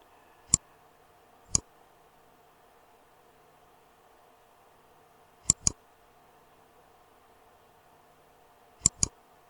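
A computer mouse clicking on arrows in Google Maps on a PC: sharp, isolated clicks, a single pair spaced a second apart, then two quick double clicks, over a faint steady hum.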